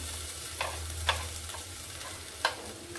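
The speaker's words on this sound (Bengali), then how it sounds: "এবার আস্তে আস্তে মশলাগুলো মেশাতে থাকবো।" Vegetables fry in a pan with grated ginger and green chili, giving a faint, close sizzle under a low hum, broken by three or four short scraping strokes of a spatula.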